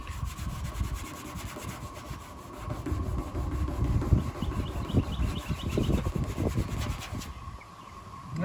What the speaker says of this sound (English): just rubbing it with a towel